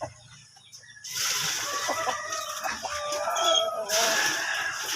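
Several heritage chickens feeding on moringa leaves cluck and squawk close by, a busy overlapping chorus starting after a quiet second and continuing steadily with bursts of louder calls.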